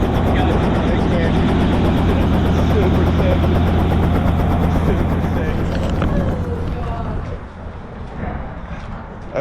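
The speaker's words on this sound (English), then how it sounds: "Okay, that was the helicopter ride." A helicopter on a sightseeing flight over Tennessee drones loudly with a steady, throbbing engine and rotor beat close by, with voices talking over it before the roar fades and thins near the end.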